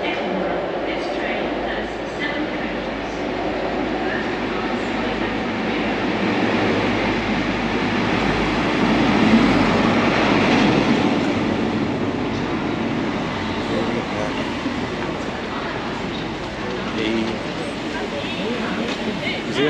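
A train rumbles steadily along at Exeter station with broadband rolling noise, swelling briefly midway, while people talk faintly over it.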